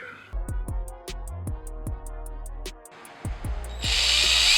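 A power drill whirs in short bursts, stopping and restarting several times, then runs into a harsher, grinding stretch as it bites through the top of a polymer clay figure near the end.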